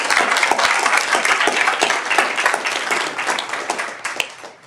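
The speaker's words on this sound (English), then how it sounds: "give yourselves a round of applause" A crowd at a Daly City youth poet laureate commencement event gives a round of applause: dense clapping that holds steady, then thins and fades toward the end.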